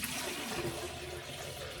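Water pours out into a shaving basin, a continuous splashing gush with a trickling edge, close and faint, no talking.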